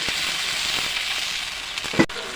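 Masala spices with turmeric frying in a hot pan, a continuous bright sizzle and hiss that stays steady throughout, with a brief clatter near the end.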